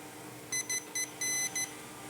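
Multimeter sounds short, sharp continuity beeps while probing pads on an Elmyra synth build, a quick series of about five tones, one held slightly longer, ringing clearly over a faint background hum.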